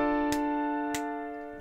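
A sustained chord rings and slowly fades while three sharp clicks tick at roughly even intervals over it.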